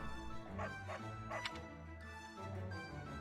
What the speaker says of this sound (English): For a second there, I thought the cat started barking at me.